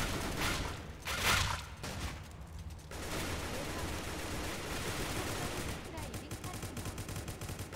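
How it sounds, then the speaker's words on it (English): Rapid bursts of gunfire from players shooting in Roblox crackle continuously, with a few louder shots early on and a dense, steady stream of distant-sounding fire. "What are all these guys shooting so much at?"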